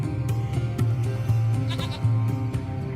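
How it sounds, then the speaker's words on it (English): A small goat in the video game Lost Horizon bleats several times in quick succession, close and clear over a faint steady background hum. "It's a small goat."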